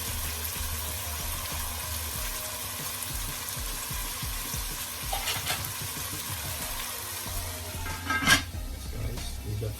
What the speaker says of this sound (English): we're gonna leave this to saute for about a minute.